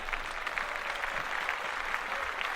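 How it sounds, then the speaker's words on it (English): Faint applause rises from an audience, a soft continuous patter of clapping heard at a distance. "round of applause for fucking Dr. Dre"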